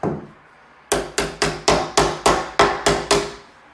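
A hammer strikes an interior door during installation, nine sharp, evenly spaced blows in quick succession after a short quiet start, loud and close with no talking.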